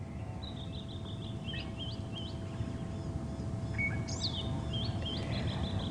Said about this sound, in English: I can hear the drongos most dominantly as well.